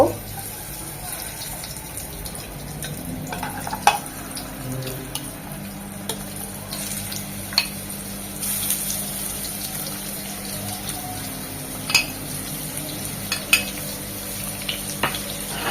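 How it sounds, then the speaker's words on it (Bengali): Prawns frying in about two spoonfuls of soybean oil for garlic butter prawns, a steady soft sizzle running throughout with occasional sharp clicks and scrapes, close and moderately quiet, no speech. "তো এখন আমরা চুলায় চলে যাবো চিংড়িগুলো ভাজার জন্য দিয়ে দিচ্ছি রান্নার রেগুলার তেল দু চামচের মতো সয়াবিন তেল"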